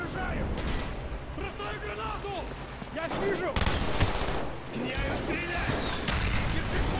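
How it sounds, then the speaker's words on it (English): The Call of Duty: Black Ops campaign plays dense, loud combat: bursts of gunfire and heavy explosive blasts that fit RPG fire. A player talks over the barrage throughout. "they're shooting RPGs at me and stuff"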